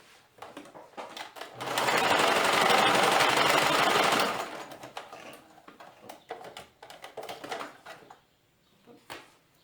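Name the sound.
sewing machine stitching elastic on dress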